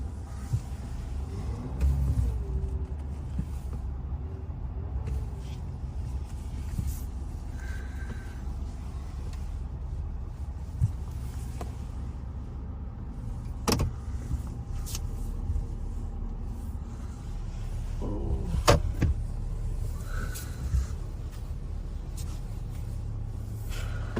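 A truck idles steadily as it pulls up slowly to a tree, with a low continuous engine rumble and occasional clunks and knocks over it.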